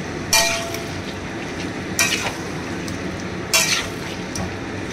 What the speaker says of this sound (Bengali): দুটো লঙ্কা দিয়ে ভালো করে আর একটু কষাবো।